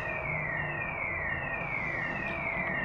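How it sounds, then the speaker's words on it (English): A neighbour's alarm wails steadily in the distance, a rising and falling siren tone repeating over outdoor background noise while a garden hole is being dug for a Japanese maple (Acer palmatum) raft. "the terrible noise you hear now is the alarm of the neighbor"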